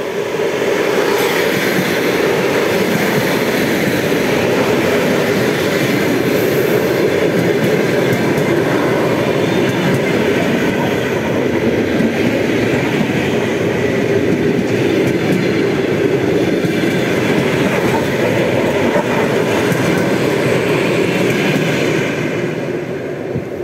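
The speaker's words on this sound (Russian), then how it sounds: "Выезд поезда." A train rumbles along continuously, a loud steady roar of wheels and carriages close by, with no talking.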